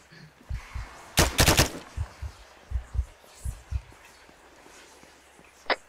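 Gunfire in the Arma 3 video game during a horror mission: a sharp close burst of shots, then muffled distant thumps at an uneven pace and one more sharp crack near the end.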